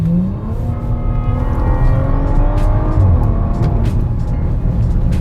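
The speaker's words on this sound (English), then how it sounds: "That W12 engine, oh, it just sounds so good" A 2020 Bentley Bentayga Speed's W12 engine revs in sport mode, a loud, deep, rising growl with steadily climbing pitch, heard from inside the SUV without talk.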